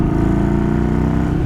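Yamaha Bolt motorcycle fitted with a ForceWinder intake, its engine running loud and close with a steady low throbbing pulse and an even rumble, no voices over it.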